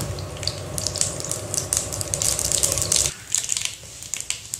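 Mustard seeds spluttering and crackling in hot oil for a dry ginger and pepper kuzhambu, a dense steady sizzle with sharp pops that thins out abruptly partway through, no talking.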